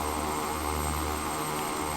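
An aircraft engine spools up in a flight simulator as a second engine comes on, giving a steady, loud, droning whine with constant tonal hum and no speech.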